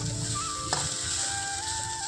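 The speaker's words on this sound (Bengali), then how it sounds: "আমি আলু ভাজাটা দেখো ভেজে নিচ্ছি একদম কম তেল দিয়ে" Potatoes fry in a little oil in a pan, a soft, steady sizzle close by with a faint tonal hum in the background and one brief clink, no talk.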